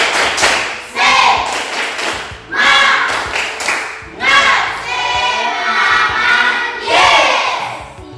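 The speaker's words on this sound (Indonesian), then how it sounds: "Tepuk semangat." A school class claps together in a rhythmic spirit-clap pattern, with voices chanting loudly in unison between bursts of clapping.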